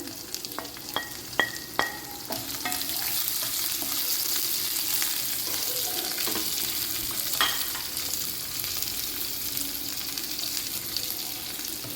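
Cumin, crushed ginger and garlic sizzle in oil in a frying pan, a steady bright hiss with a few sharp crackles and stirring clinks early on, close and alone.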